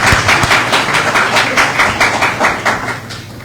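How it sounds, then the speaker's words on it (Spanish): An audience applauds for the panelists at a freedom-of-expression report presentation in Costa Rica, with close, loud, rapid clapping that is steady at first and thins out toward the end. "Me acompañan con un aplauso para ellos"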